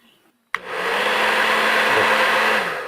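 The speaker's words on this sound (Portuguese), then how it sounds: "Aí vamos pegar um secador, né? Um secador de cabelo." A handheld hair dryer switches on after a brief quiet moment and blows hot air in a steady, loud whoosh close to the mic, used to warm and loosen a phone part.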